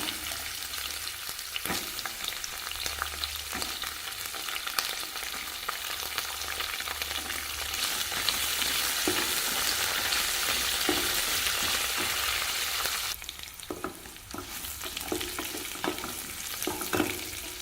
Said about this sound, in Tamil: காரத்துக்கு மூணு வரமிளகா சேர்த்துக்கிறேங்க நெல்லிக்காயும் சேர்த்து நல்லா வதக்கிக்கலாங்க